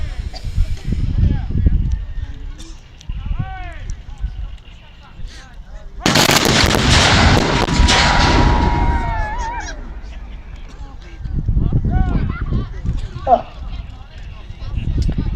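Musket and artillery fire at a US Civil War re-enactment, Military Odyssey 2018: a loud, sustained burst of gunfire rolls out midway, framed by a commentator talking, horses' hooves and outdoor crowd noise.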